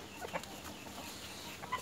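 Free-range country hens cluck softly and sporadically at close range while pecking at a coconut set on the ground, with a faint outdoor background.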